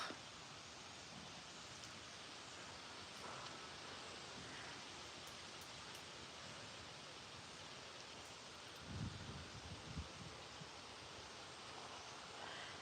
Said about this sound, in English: Wind is picking up again.